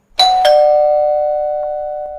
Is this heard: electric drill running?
no